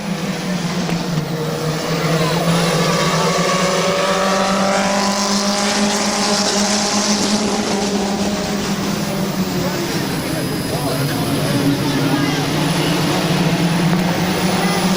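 Race cars roar around Midvale Speedway in a steady, loud engine drone that rises and falls as the pack passes, with an announcer talking over it throughout.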